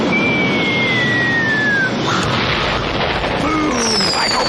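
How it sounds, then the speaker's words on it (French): A loud, dense cinematic explosion roars continuously with heavy rumbling debris and crackle, and whistling tones rise and fall through the blast. "Michael Bay presents Explosions!"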